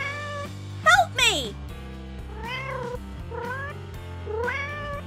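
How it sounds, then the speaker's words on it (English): A cartoon cat meows several times in rising, whining calls over a steady musical backing, with two louder cries near the start and drawn-out mews after, set in a rescue from a tree. "These cats, always getting stuck in trees!"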